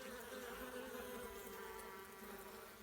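Honeybees hum steadily during a spring hive inspection, a faint, continuous droning buzz with no voices over it.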